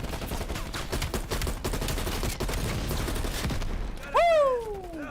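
Shotgun and rifle fire crackles in rapid bursts during a Call of Duty Cold War campaign battle, loud and dense, followed by a rising whistling swoop near the end.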